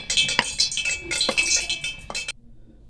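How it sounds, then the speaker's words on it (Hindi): A spoon mixes flour with chili, salt and spices in a bowl, giving a quick run of sharp metallic clinks and scrapes, close and fairly loud, before stopping abruptly. "इसको अच्छा सा मिक्स कर लेंगे"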